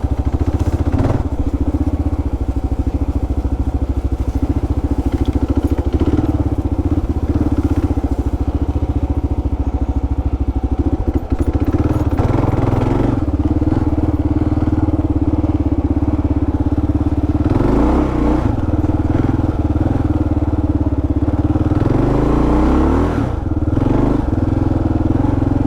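A Kawasaki KLR650 single-cylinder motorcycle engine fitted with a JD tuner drones loudly and steadily while riding on the road, with slight rises in pitch as the throttle changes and wind rumble throughout, no talk.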